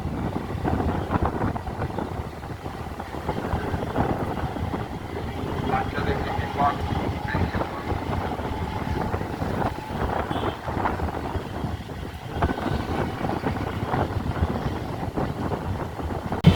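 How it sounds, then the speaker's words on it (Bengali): A train heading from Krishnanagar toward Amghata halt runs at speed, giving a steady, loud, continuous rumble with rushing wind noise and no clear breaks. "যথেষ্ট গতিবেগ নিয়ে আমাদের ট্রেন আমঘাটার দিকে যাচ্ছে"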